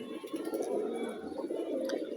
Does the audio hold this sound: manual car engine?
no